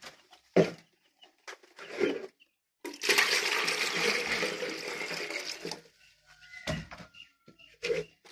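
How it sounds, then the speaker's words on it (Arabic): Water splashes and pours for a few seconds from a container into a drinker for young chicks, with brief clatters and faint peeps around it, and no one speaking. "نحط لهم بقى المية."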